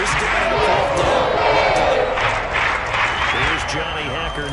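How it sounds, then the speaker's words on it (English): Crowd applause and cheering ring out in a Madden 23 football game on PS5, a sustained wash of clapping with a commentator talking over it. "Some applause for the defense there"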